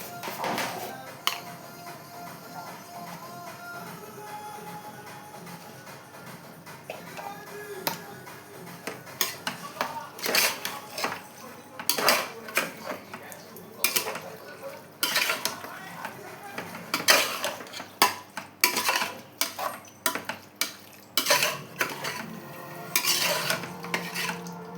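Chicken biryani stirred in a pot: repeated scraping and clinking of a metal spoon against the pot, starting soft and growing into busy, irregular clatters toward the end, close and with no voices.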